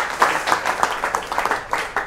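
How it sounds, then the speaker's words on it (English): Audience applause at a pub maths-trick talk after a poker trick, a short burst of close, brisk clapping from a small group, steady and fairly loud throughout. "This table deserves a round of applause."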